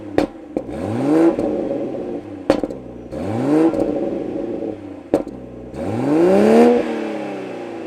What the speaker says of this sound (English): The B58, which has 382 horsepower, sounds amazing with the top down